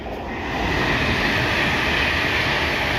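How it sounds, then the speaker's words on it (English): A DRS class 88 locomotive passes through Rugby on a freight run from Coatbridge, a loud close rumble of wheels and engine swelling quickly and holding steady as the train rolls by. "passing through now is a DRS 88 going from Coatbridge"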